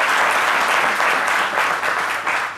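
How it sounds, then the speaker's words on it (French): A crowd claps loudly and continuously, dense sustained applause with slight swells in intensity, no speech over it. "On va l'applaudir"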